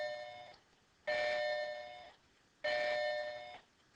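A doorbell chimes twice in a row, each ring a bright sustained tone that fades slowly, sounding moderately distant with no talking over it.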